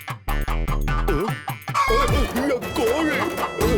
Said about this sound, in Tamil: கோழி